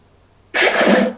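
A single harsh, breathy cough bursts out close by after a moment of quiet.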